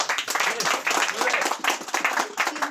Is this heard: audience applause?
yes